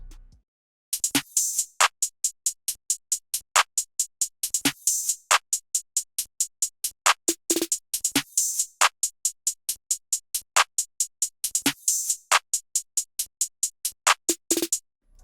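Hip-hop drum pattern programmed in FL Studio, with steady rapid hi-hat ticks layered with an extra hat pattern, punctuated by sharp snare cracks and occasional swelling splashes, dry and without bass.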